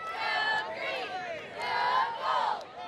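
A crowd at a school homecoming bonfire at night cheers and shouts in loud, continuous swells, with many voices overlapping into a dense, energetic roar.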